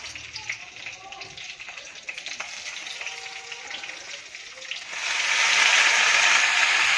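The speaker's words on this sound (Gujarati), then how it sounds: "હવે તેલ ગરમ થઈ ગયું છે. એમાં આપણે નાખી દઈએ લીલા મરચાં પહેલાં." Green chillies drop into hot oil for a Gujarati ivy gourd and onion curry, and after soft kitchen clatter a loud, steady sizzle bursts up and keeps going.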